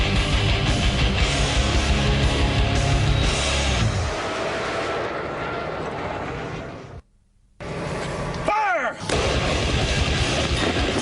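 Artillery fire from a modern strike: a heavy, sustained roaring barrage that fades, breaks off briefly into silence, then resumes with a sweeping whistle-like tone and continued loud rumble.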